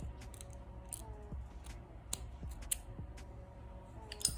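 Scissors snip off a loose crochet yarn end, giving a few faint, sharp clicks spaced over a quiet background with no talking.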